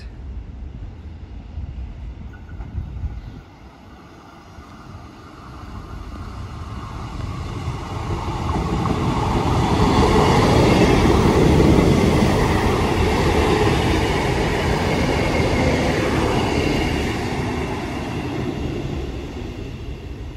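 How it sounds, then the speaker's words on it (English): A double Class 158 diesel train bound for Liverpool Lime Street passes through a station, its rumble swelling to a loud, sustained roar mid-pass before easing off. No one speaks. "train now passing through. Looks like a double 158 going to Liverpool Lime Street"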